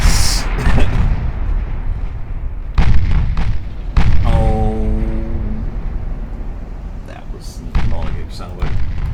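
Naval artillery in Ultimate Admiral Dreadnoughts fires several deep booming salvos at irregular intervals, with a brief whistling tone after one of them. Steady rumbling lies underneath, and someone talks over much of it.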